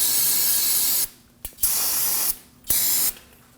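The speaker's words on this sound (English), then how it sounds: "We'll spray the area down with some brake cleaner." Two sustained hissing bursts of brake cleaner from an aerosol can sprayed onto the brake area of a 1993-2001 Subaru Impreza 2.2L H4, each lasting about a second and a half, loud and close, separated by brief quiet pauses.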